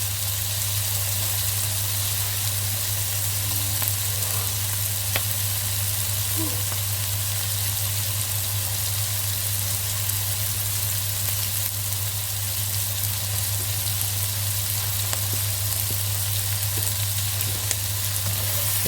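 Onions fry in a pan, giving a steady, dense sizzle that holds at an even level throughout, close and loud with no pauses.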